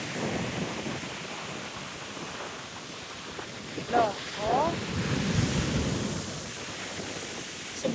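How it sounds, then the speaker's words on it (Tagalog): Strong surf pounds the shore at La Mer beach in Dubai, a steady wash of rough waves mixed with gusty wind noise on the microphone, with a couple of brief exclamations from a voice partway through. "Sobrang lakas ng mga alon."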